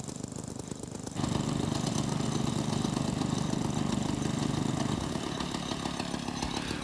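A DeepRock Hydra Drill rotary well drilling rig runs loudly, its engine revving up after a second into a steady rough drone, then easing slightly toward the end.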